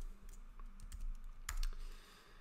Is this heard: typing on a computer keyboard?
yes